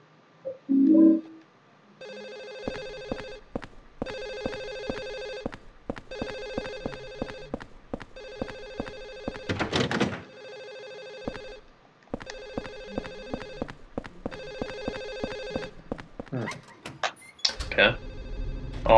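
In Silent Hill 4, a phone's electronic ring repeats in evenly spaced, piercing bursts, clear and prominent, with brief voice and noise interruptions near the start, middle and end.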